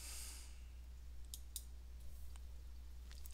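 Mouse click on a save button in accounting software, a few faint, sharp clicks spaced irregularly over a quiet background with light breathing.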